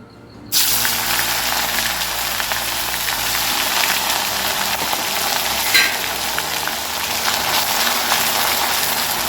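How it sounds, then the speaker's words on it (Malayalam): Cauliflower sizzles loudly as it shallow-fries in hot oil, a dense continuous crackle that starts abruptly and stays steady, close up, with no talking. "ഞാനിപ്പോൾ എളുപ്പത്തിന് വേണ്ടിയിട്ട് ഇങ്ങനെ വറുത്ത് പോരുകയാണ്"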